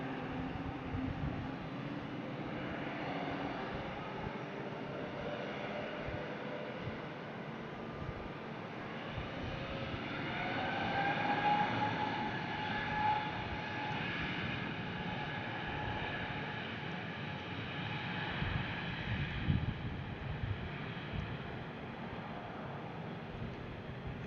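An airliner taxis along a taxiway at Brussels Airport, heard as a steady, distant engine rumble and whine that swells slightly midway, with no talk.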